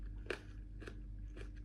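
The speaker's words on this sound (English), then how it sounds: "Try a little bit of this radish." Three crisp crunchy bites of spicy raw radish, each a short sharp crunch spaced about half a second apart, close up over a steady low background hum with no talking.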